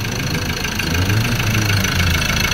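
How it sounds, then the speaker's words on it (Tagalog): Ford Ranger 2.2 manual diesel engine running after reassembly, with a steady loud low rumble and a persistent knocking throughout, no voices. "Ayan po, narinig nyo na sobrang ingay. Mayroon talagang knocking."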